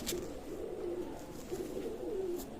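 Pigeons cooing close by, with soft, low, repeated coos rolling on over a faint background hiss and a couple of brief clicks, no talk.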